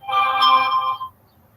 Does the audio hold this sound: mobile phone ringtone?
yes